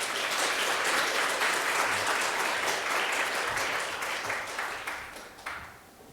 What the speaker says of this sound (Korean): 한 번 더 격려의 박수 해주시기 바랍니다.